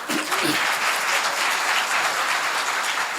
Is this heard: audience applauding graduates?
yes